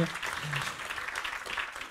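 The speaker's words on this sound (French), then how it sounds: "je crois qu'on peut applaudir nos orateurs aujourd'hui" A crowd claps in a brief burst of applause for speakers at a talk, steady and fairly close, with a voice briefly audible at the start.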